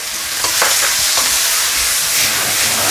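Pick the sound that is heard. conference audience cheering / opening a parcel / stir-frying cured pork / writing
stir-frying cured pork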